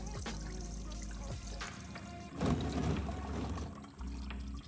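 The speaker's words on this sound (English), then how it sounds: "So there we go, oil's coming out." Engine oil draining out of the oil pan of a Toyota GR Supra during a home oil change, a steady close pour and splatter of liquid with a brief louder gush midway.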